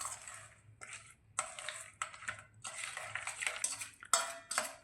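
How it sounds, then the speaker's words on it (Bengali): A spoon clinks and scrapes around a bowl while dry fruits are folded into a yogurt and oil batter for an eggless fruit cake, in short bursts of close metallic stirring. "এবার সমস্ত ড্রাই ফ্রুটসটা খুব ভালোভাবে টক দই এবং তেলের যে মিশ্রণটা বানিয়েছিলাম তার সঙ্গে মিক্সড করে নিচ্ছি।"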